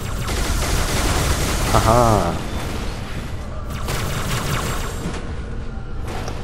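Sentinel beam weapons fire steadily in the Halo 2 video game, a dense, continuous buzzing blast running throughout, with a person laughing over it.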